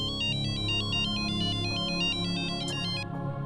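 A phone ringtone plays a bright, repeating electronic melody for a few seconds before cutting off, with a low musical bed beneath it.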